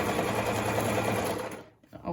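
A Privileg Voll-Zickzack 210 sewing machine stitching fast and close, a steady dense mechanical whir that stops abruptly near the end, with talk faintly underneath.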